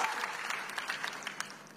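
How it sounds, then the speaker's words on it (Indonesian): A church congregation breaks into applause during a sermon, a brief wash of many hands clapping, somewhat distant and soft. "Yang percaya tepuk tangan yang paling meriah buat Yesus."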